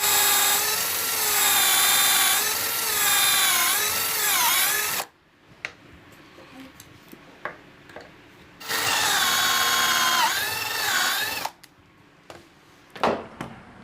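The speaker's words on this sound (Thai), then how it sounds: "ใช้จิ๊กเจาะเอียงนะครับ" A power drill boring angled pocket holes in wood with a jig whines loudly in two long bursts, its pitch rising and falling as it bores, with quiet clicks and handling noises between.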